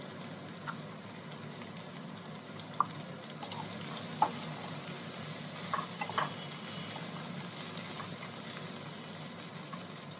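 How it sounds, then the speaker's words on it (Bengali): Whole garlic cloves fry in oil in a pan for butter chicken, giving a quiet, steady sizzle with occasional small pops and light clinks. "এর মধ্যে আমি একটু রসুন দিয়ে দিচ্ছি"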